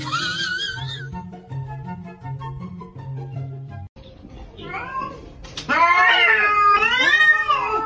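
A cat meows repeatedly, then breaks into loud, drawn-out caterwauling yowls that rise and waver near the end, with a brief human exclamation mixed in.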